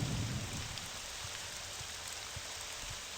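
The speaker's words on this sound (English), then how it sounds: "It's raining again." Steady rain falls in a stormy outdoor scene of the video game Morrowind, a soft even patter with a low rumble at the start, faint and continuous with no speech.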